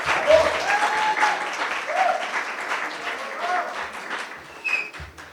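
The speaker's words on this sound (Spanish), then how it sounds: "Recibamos con un fuerte aplauso a Nicole Curi Curi." An audience at a book launch event breaks into sustained applause, a full wash of clapping that fades slightly toward the end, with some voices audible beneath it.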